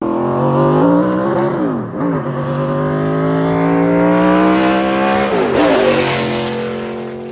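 A 900-horsepower naturally aspirated NASCAR V8 race car engine revs hard and loud, its harmonic pitch climbing steadily through several gear-like sweeps with brief dips near two and five seconds, sustained and close with no talking.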